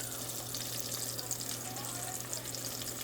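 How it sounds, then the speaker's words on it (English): Food frying in a pan with Cajun seasoning and plain white salt, giving a steady, close, continuous sizzle with crackling hiss throughout and no talk over it. "Hear that sizzle?"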